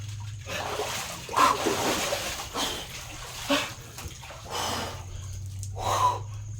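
A person wades into cold 7-degree water, making several separate splashes spaced a second or so apart, with quiet trickling and breathy noises between them.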